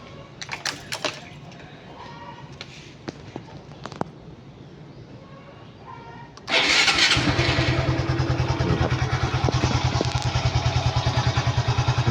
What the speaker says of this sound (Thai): สตาร์ตติดง่ายครับเดี๋ยวผมลองสตาร์ทให้ดู